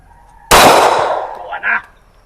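A single sharp gunshot rings out near and loud, followed moments later by a fainter metallic ping from a steel reset target downrange, outdoors on a shooting range.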